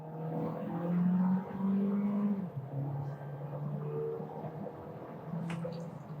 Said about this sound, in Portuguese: o giro subindo, pressão do turbo saindo